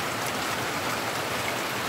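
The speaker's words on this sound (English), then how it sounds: "it is thundering, lightning, and raining since 3 o'clock" Steady heavy rain pours down at a rural country home during an afternoon thunderstorm, a dense continuous hiss with no thunder claps standing out and no voices.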